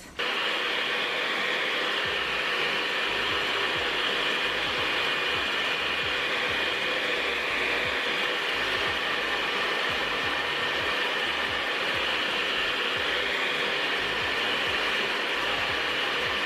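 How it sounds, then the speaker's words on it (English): A handheld blow dryer set to cool dries wig glue gel, giving a steady, even whirring rush of air that runs alone and unbroken from start to finish. "if you have a blow dry, you can put it on cool and just speed up the process"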